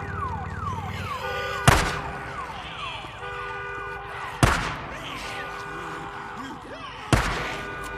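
A car alarm in the Days Gone video game wails on with looping warbling tones, broken by three sharp loud bursts, with a faint voice briefly under it.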